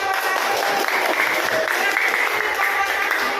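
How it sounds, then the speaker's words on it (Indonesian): Classroom applause as students clap for the winning group 1, a steady dense patter of hands at close range with children's voices mixed in. "Iya, kelompok 1, tepuk tangan"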